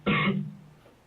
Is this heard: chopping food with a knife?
no